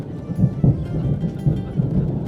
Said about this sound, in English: the tremendous sound of Zeus's thunder greeted us